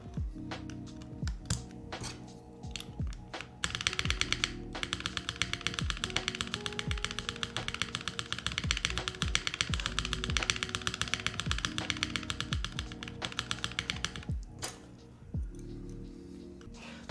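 Steady, dense typing on an Arc60 mechanical keyboard with lubed, modded Gateron Cap switches, smooth muted keystrokes, preceded and followed by a few slow low thocks and taps, close up and without talk.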